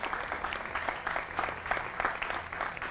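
A studio audience on a Hindi television debate show applauds to welcome a guest. The clapping is quiet and continuous, with no clear talk over it.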